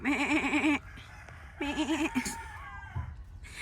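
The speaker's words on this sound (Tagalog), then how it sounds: "Cute nung kambing niya." A goat on a farm gives two wavering, quavering bleats close by, the first long and strong, the second shorter, with quieter rustling and a soft animal call in between.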